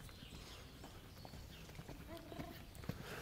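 Horses being ridden at a walk, their hooves clip-clopping in an irregular rhythm at moderate distance, with a faint low murmur of voices in the background.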